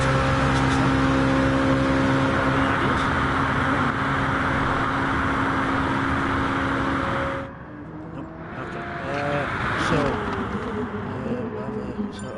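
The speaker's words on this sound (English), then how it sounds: "So there goes Keith in his BMW there, just on track" A BMW race car in a racing video game howls steadily at high revs around a track, then the engine drops away and climbs again as it shifts. Voices talk over the game sound.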